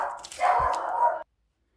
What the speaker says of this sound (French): mon chien m'a déconcentré